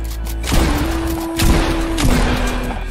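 Heavy gunfire in a shooter video game, dense overlapping shots and booms rolling continuously at close range, with a sustained tone running beneath the barrage.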